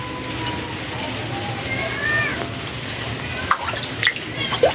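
Water running outdoors in a steady broadband wash after rain, with a few sharper splashes and drips near the end; a voice murmurs faintly beneath.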